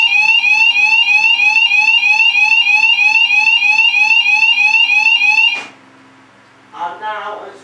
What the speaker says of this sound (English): You now hear my sounder going off because the bathroom detector has been set off.